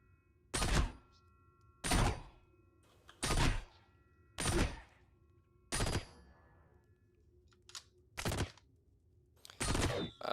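Gunfire in Caves of Qud, sharp loud shots firing one at a time at roughly one-second intervals, about eight reports with short silences between them.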